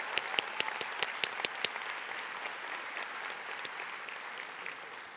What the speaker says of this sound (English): let's encourage her to come to the stage with some claps